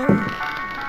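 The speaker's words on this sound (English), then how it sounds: "the gramophone doesn't stop even though it's in my inventory in my pocket" Tinny music from a gramophone carried in the inventory in the 1992 video game Alone in the Dark, a short steady tonal phrase with a soft thump at the start, played alone.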